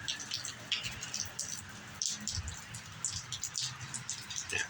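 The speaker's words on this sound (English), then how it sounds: "Recording some of the rain" Light rain falls steadily in Yulee, Florida, with soft patters and scattered drops hitting surfaces, quiet and continuous with no talking.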